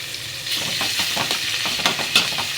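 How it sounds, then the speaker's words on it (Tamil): Two chopped tomatoes and two onions fry in hot oil in a kadai, a loud close sizzle broken by repeated rhythmic scraping stirs, with no voices. "அது எண்ணெய் வந்து நல்லா கடாயில் சூடாயிடுச்சு. போட்டு நெக்ஸ்ட்டு வந்து தக்காளி 2 கட் பண்ணி வச்சேன், 2 வெங்காயம் கட் பண்ணி வச்சது தான்"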